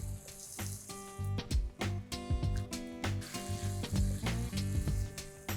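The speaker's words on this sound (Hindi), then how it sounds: "तो ये टमाटो प्यूरे जाएगी, इसे भी करते हैं मिक्स।" Tomato puree goes into a hot masala tadka for dhaba-style masala bhindi, setting off loud, crackling sizzles and bursts of frying as it is stirred and mixed in the pan.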